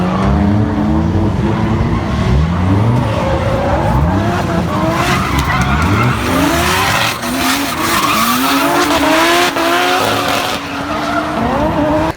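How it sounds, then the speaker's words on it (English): BMW E36 drifting on a track, engine revving hard through rising and falling gear sweeps with continuous tire squeal and skidding, loud and close throughout. "Here's a couple of clips of us drifting the E36 at the NMLZ event at that track."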